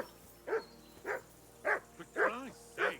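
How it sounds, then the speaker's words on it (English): A dog in the video game Kingdom Come: Deliverance II barks repeatedly, five or six sharp woofs spaced about half a second apart, fairly close with a faint room hum beneath. "Henry, that barking's driving me nuts"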